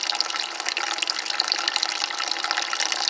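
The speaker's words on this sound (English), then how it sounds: "Yeah, water flow's getting better." Water rushes steadily through the lines of a marine air conditioner being flushed of barnacles, a strong, continuous close-up gush like a running tap with faint knocks underneath.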